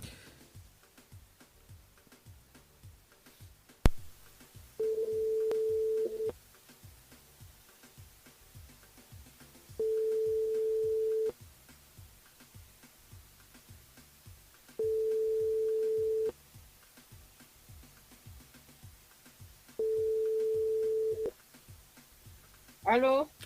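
Telephone ringback tones sound while a live radio show places a call to a listener: four evenly spaced long beeps about five seconds apart, after a click, over faint background noise.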